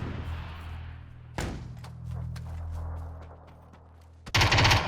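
Friendly gunfire in a PUBG custom game: a loud close shot, then a rapid string of sharp automatic rounds over a low rumble, ending in a dense, loud burst.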